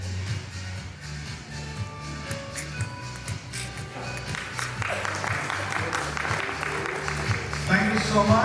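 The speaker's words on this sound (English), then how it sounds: "Let's clap." Audience clapping at a parish hall opening ceremony, starting as scattered claps over a low hum and background talk, then swelling into fuller applause through the second half.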